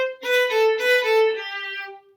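Violin plays measure 22 of Vivaldi's Concerto in G, a short run of bowed notes followed by a sustained tone that fades out, solo and close.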